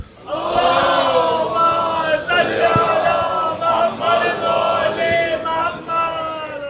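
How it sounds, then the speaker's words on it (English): A mosque congregation at a Muharram majlis recites salawat loudly in unison, a dense sustained chant of many voices filling the hall throughout, with rhythmic surges in volume. "Can I get a loud salawat?"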